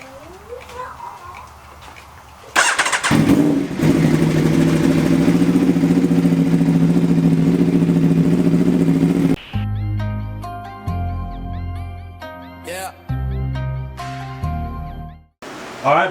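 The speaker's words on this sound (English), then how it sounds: "First start up with the new exhaust." An Aprilia RSV4 motorcycle engine with a custom titanium race exhaust fires up with a loud, raspy roar that holds steady, then gives way to other louder, choppier sounds with a few sharp bursts.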